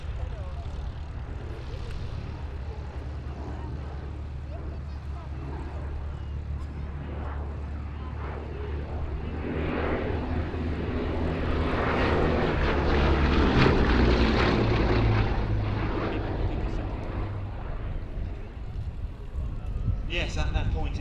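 A Bristol Blenheim with a pair of Bristol Mercury radial engines drones overhead at an air display, swelling louder as it passes and then fading, while a commentator talks throughout.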